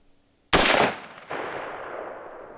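Two sharp rifle reports from an Aero Precision 20-inch AR upper, a loud close crack followed by a slightly softer second shot, each trailing off in a long ringing decay.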